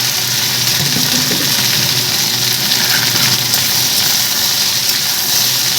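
Constant loud sizzling hiss of vegetable stems frying in a pan with salt and turmeric, steady throughout with no voices.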